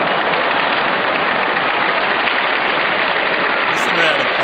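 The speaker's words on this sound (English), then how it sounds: "Listen to that applause." Sustained, loud audience applause at a 1965 performance, a dense wash of clapping that fills the whole stretch without a break, with no talk over it.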